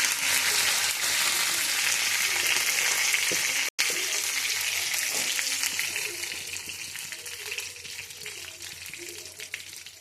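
Curry leaves sizzle in hot tempering oil with mustard seeds, fenugreek and garlic for a tamarind pickle: a loud, dense, steady crackle with one brief dropout, easing slightly toward the end.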